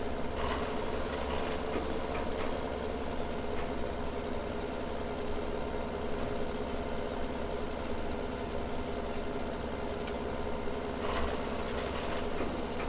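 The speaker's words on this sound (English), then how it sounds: "so it makes sense that even this big tractor would be powering out." In the Farming Simulator game, a big tractor engine labors up a steep hill with a constant heavy drone and low rumble, loud and steady throughout with faint knocking and clatter on top.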